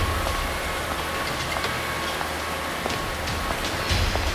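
Heavy rain pours down steadily, a dense, constant hiss with faint scattered drip ticks throughout and no talking.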